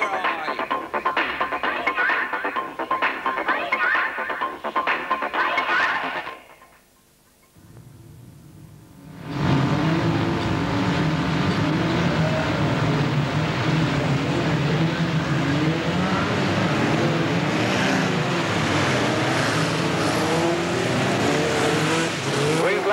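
BriSCA Formula 1 stock cars race around the Boston track in March 1991, thirteen cars out together: a loud, dense roar of engines holds steady for most of the stretch after a short quieter break.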